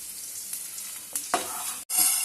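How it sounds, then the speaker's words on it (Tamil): Urad dal roasting in a pan while making a ridge gourd peel chutney, giving a steady dry sizzle with a few stirring scrapes and a brief cut near the end. "உளுந்த போட்டுக்கலாம். உளுந்த நல்லா சவக்க வறுத்தாங்க"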